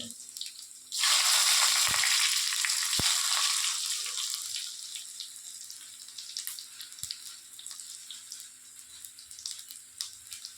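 Crushed garlic and dried red chillies go into hot oil for a tempering, bursting into a loud, sudden hiss that gradually fades over several seconds into a softer, steady crackle, with no talking.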